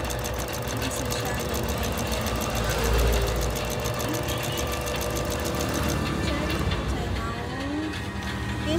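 A Singer Nui Nui sewing machine stitches a hem with a fast, steady mechanical chatter that runs for most of the stretch and then stops, while a voice talks over it.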